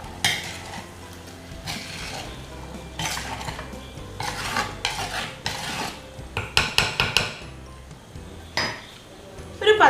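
Sardine meen peera is stirred slowly in a pan, with a spoon scraping and clinking against the metal in repeated strokes and a soft sizzle underneath.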